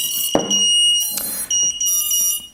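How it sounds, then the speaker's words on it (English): A Walkera Rodeo 110 drone beeps while binding to its transmitter, a run of sharp, high-pitched electronic tones in short bursts of different lengths, close and loud, with a click at the start. "You'll get quite a lot of beeping going on, and then the binding process should occur."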